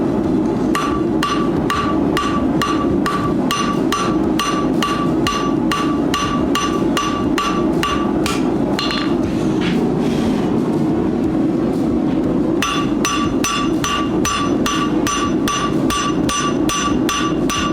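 Steady, rapid metallic hammer blows ring out on an old steel file, a regular rhythm of sharp clanging strikes with a brief pause midway before resuming with a smaller hammer.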